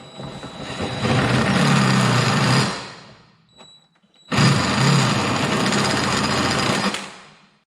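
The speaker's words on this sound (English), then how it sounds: "I'm gonna go ahead and drill the other intake" A drill bores into the intake of a Honda Del Sol during a fuel injector upgrade, running loud and steady in two long bursts separated by a brief pause.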